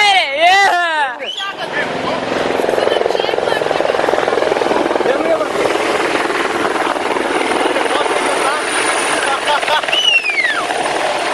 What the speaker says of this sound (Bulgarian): Сега гледаш хеликоптера.